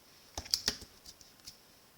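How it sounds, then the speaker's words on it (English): Scissors snip the ribbon ends of a bow on a handmade card, a few quick, crisp close clicks in a quiet room. "I'm going to give my ends a little snip"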